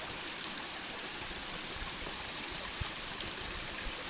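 Outdoor stream rushing and trickling steadily nearby while water is collected, a continuous broadband wash of flowing water with no voices.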